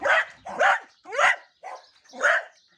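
A dog barks five times in a steady series, loud and close, with short pauses between each bark.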